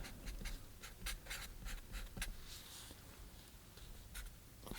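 A pencil sketches a preliminary drawing on paper for a watercolor still life of flowers: faint, close scratchy strokes in quick irregular bursts, quiet and alone.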